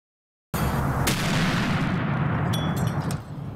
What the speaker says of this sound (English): Neighborhoods across the country rocked by explosions like the one you just saw.